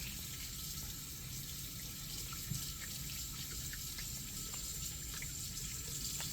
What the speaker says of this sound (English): I'll wash my hands for 20 seconds